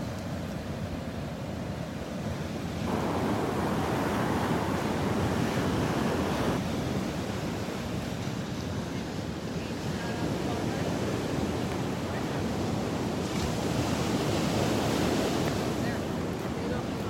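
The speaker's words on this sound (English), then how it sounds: "Listen to those waves." Gulf of Mexico waves breaking on a beach in North Naples, Florida, heard as a steady roar of surf mixed with wind rumble against the microphone.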